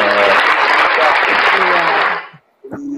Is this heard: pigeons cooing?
no